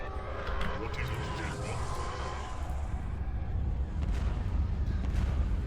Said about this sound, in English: Are they firing at my Star Destroyer with the missile cruiser?